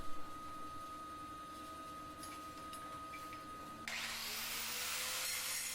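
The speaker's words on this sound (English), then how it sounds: "we'll have that out with the grinder" A grinder works a forged farrier's knife blade. After a steady background hum, the motor and abrasive surge into a bright, loud hiss that carries on for the final couple of seconds.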